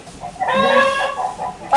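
A chicken clucks in a short, close burst of several rapid calls, loud and alone with no talking over it.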